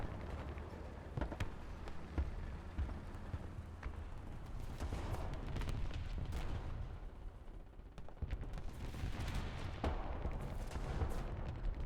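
Dense artillery and gunfire rumble continuously in Gundam Battle Operation 2, with repeated booms and sharp cracks layered over a steady low roar, loud and sustained throughout with no talk.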